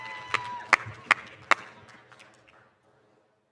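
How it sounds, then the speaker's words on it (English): A handful of sharp, separate claps ring out at a stage ingredient contest event. Short bursts come about every half second before fading into a quiet room, with faint voices under them. "Come on, cheer. You can clap. Let's hear it."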